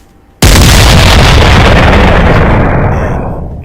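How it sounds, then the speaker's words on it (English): A stadium cannon booms at an American football game, one sudden loud blast followed by a long roaring decay that slowly fades over a few seconds. "fire those cannons"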